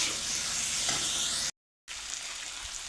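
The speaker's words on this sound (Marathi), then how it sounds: "आता चिरून घेतलेला बटाटा घालू. तर तेलामध्ये 5 मिनिट आपण मसाल्याचं भाजून घेऊ." Chopped potatoes and spices fry in oil for a Maharashtrian potato curry, a steady broadband sizzle, close and fairly loud, broken by a brief silent gap before the frying resumes.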